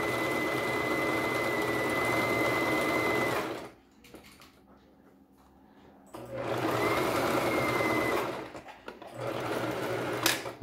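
A Singer Start sewing machine stitching in two long runs with a steady whirring drone and motor hum, broken by a short quiet pause in the middle, then a brief third burst, close and clear.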